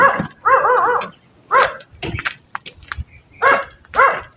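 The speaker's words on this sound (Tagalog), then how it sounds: "May aso." A dog barks in an abandoned cemetery, giving about five sharp, close barks in uneven bursts separated by short quiet gaps.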